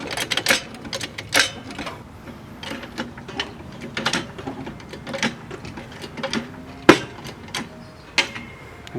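A car jack is ratcheted up under a Mk6 VW GTI in a garage, producing quiet, irregular metallic clicks and clacks from the mechanism with no talking.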